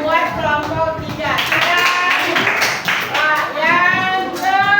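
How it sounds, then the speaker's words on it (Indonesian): Students in a classroom clap for group 3, a burst of steady hand claps blended with overlapping voices and children's chatter. "Beri tepuk tangan buat kelompok 3."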